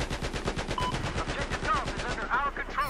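Rapid, steady bursts from a mounted machine gun fire continuously in Battlefield 1, loud and close, with faint game sound effects layered over the rattling shots.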